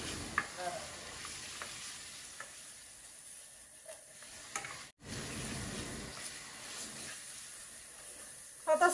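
Dried chili and turmeric powder sautéing in a pan at home make a quiet, continuous sizzle with a few faint knocks and clinks, ending in a brief louder clatter.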